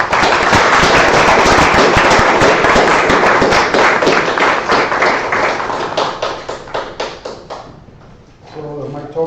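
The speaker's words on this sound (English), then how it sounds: "thank the organizers and their helpers with a big applause for this wonderful event" Loud, dense applause from a conference audience thanking the organizers of a physics meeting, sustained crowd clapping that thins into a few scattered claps before a voice begins speaking.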